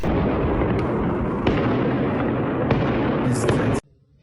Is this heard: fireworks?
yes